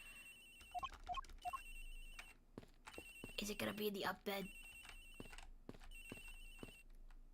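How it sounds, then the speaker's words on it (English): A telephone rings in the Ace Attorney Investigations: Miles Edgeworth video game, with repeated steady electronic trills running through the clip, partly masked by a person talking over it. "The ringing is coming from somewhere around here."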